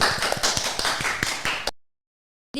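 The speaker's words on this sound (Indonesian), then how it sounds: "Boleh tepuk tangan dong." A small audience at an Indonesian talk show applauds a guest, giving a short burst of close, uneven hand clapping that stops abruptly, followed by silence and then a brief sound at the end.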